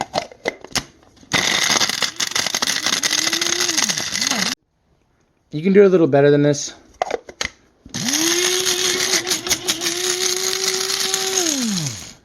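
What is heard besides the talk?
coffee grinder grinding dried mushrooms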